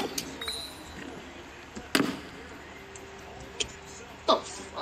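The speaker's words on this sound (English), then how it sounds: "Did someone just shoot a firework at me?" A few sharp, distant firework pops in a Minecraft Bedwars game scene, isolated bangs spaced a second or two apart over a quiet background, with faint talk.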